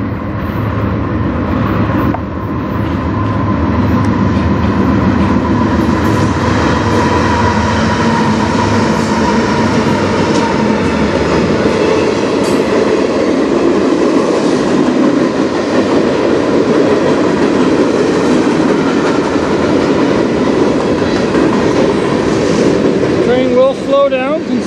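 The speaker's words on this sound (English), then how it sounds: "we got a train coming from Michigan" Freight train rolling past a trackside spot on the Strathroy subdivision, a loud continuous rumble and clatter of wagons that holds steady for over twenty seconds with wind buffeting the microphone and an occasional voice nearby.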